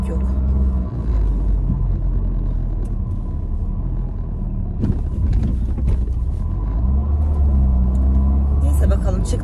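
A car drives along a road on a weekday with light traffic, its engine and tire rumble steady and heavy in the low end, with someone talking over it for most of the stretch.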